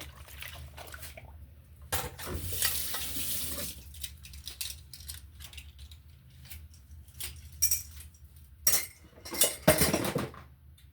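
Dishes being washed in a sink under a running tap, with water splashing and crockery and cutlery clattering intermittently, close and moderately quiet, busier clanks toward the end.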